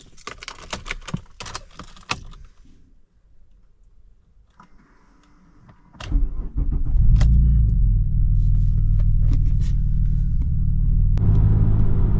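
A V6 Alfa Romeo 166, recently repaired after a broken gearbox, gives a few clicks and rattles, then its engine starts and settles into a loud, steady low rumble heard from inside the car.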